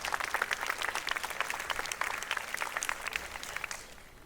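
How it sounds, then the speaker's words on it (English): An audience at a school annual day claps for a young artist, a dense, even burst of applause from a hall full of people that holds steady, then thins and fades toward the end. "May we have a huge round of applause for our young artist."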